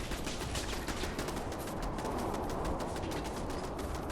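Gunfire in Fallout 4 played with a Fallout 76 mod, a dense continuous rattle of shots that blurs into a steady crackling roar for the whole span, with no talk over it.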